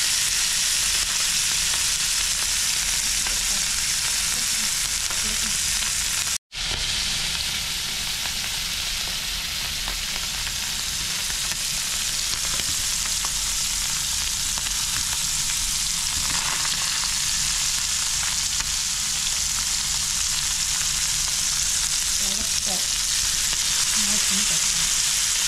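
Sankara fish fries in oil with a loud, constant hiss and crackle that runs unbroken apart from one brief cut early on.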